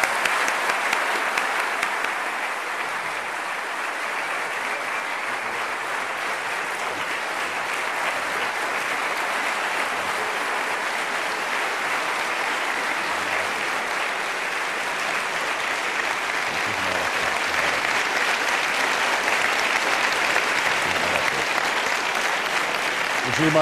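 Sustained audience applause for Vicente Fox, former President of Mexico, fills the room as a dense, steady roar of many clapping hands that holds for over twenty seconds.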